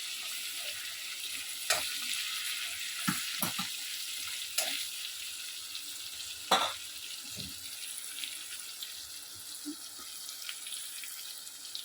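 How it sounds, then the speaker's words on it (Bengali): Pieces of taro (mankochu) with turmeric frying gently over low gas in a pan, a steady soft sizzle running throughout with a few sharper pops and clinks of stirring. "এরপর একটু ভাজতে হবে।"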